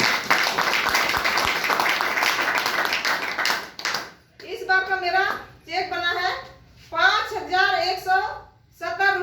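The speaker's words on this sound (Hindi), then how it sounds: "एक बार सभी गुरुओं के लिए जोरदार ताली होनी चाहिए।" An audience claps loudly and continuously for about four seconds, after which someone speaks over the quieter room.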